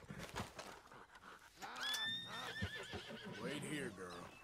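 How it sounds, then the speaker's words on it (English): A horse in Red Dead Redemption 2 neighs with a rising, wavering whinny amid hoof clops and game ambience, while someone talks over it. "So I'm just going to leave the horses up here."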